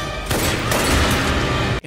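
A burst of rapid gunfire from an action movie scene rattles loudly and continuously for about a second and a half, then cuts off abruptly.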